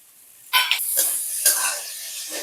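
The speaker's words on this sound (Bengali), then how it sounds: "কাজু আর কিশমিশটাকে একটুখানি নাড়িয়ে নিলাম।" Cashews and raisins frying in a pan are stirred in a few short, soft scraping strokes over a quiet, faint sizzle.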